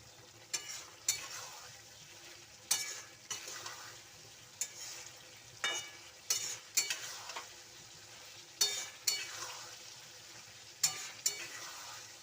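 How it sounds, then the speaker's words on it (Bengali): Spices stir-fried in a pan for soybean-potato khichuri: a constant sizzle runs beneath a dozen or so crisp scraping stir strokes that come in an uneven rhythm, close and clear. "মশলা দিয়ে দিয়েছি, দিয়ে এবার কষছি"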